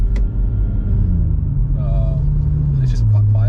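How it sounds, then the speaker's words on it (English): A Stage 2 tuned BMW M140i in comfort mode gives a low, steady exhaust drone from inside the cabin, subdued and sedate, with voices talking over it. "You can still hear the exhaust, though."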